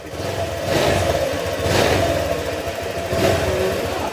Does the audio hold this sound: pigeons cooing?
no